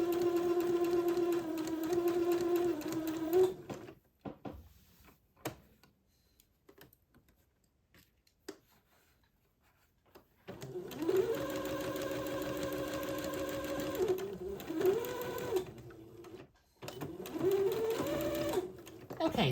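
A sewing machine stitches the crotch flap onto the inside of an heirloom bubble garment for a one-year-old boy, running in steady bursts that stop for a quiet pause in the middle and then start again.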